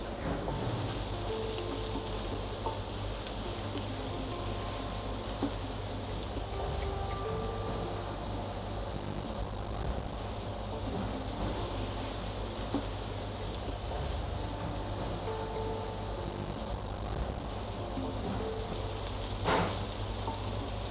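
Onions caramelizing in a pan for butter chicken, a soft, steady sizzle with light crackling pops running continuously at low volume, alone without talk.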